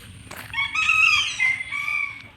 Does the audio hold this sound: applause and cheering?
no